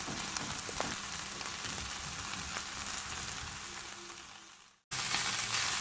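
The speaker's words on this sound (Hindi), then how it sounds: "अब हम इसमें बंद गोभी, गाजर और शिमला मिर्च डाल देंगे और इसे पकने देंगे" Cabbage, carrot and capsicum stir-frying with chicken over high heat for chow mein, a steady loud sizzle with scraping and tossing that cuts out briefly near the end, then resumes.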